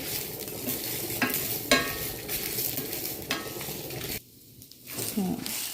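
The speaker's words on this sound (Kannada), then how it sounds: "ಈಗ ಇದಕ್ಕೆ ಮೆಣಸಿನ್ಕಾಯಿ ಹಾಕೋತೀನಿ. ಸ್ವಲ್ಪ ಚೆನ್ನಾಗಿ ಫ್ರೈ ಮಾಡ್ಕೋಬೇಕು." Green chillies frying in a pan while being stirred, a steady loud sizzle broken by scrapes and clinks of a spoon against the metal, with one brief quieter gap before the crackle resumes.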